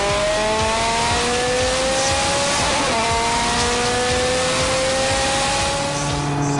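Supercharged Novitec Rosso-tuned Ferrari F430 Scuderia Spider 16M V8 accelerating hard, its loud engine note climbing steadily in pitch through the gears with a continuous, close-up roar and no talk.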